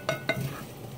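Breadcrumbs and garlic browning in a pan, two quick utensil scrapes over a low, steady sizzle, close and fairly quiet.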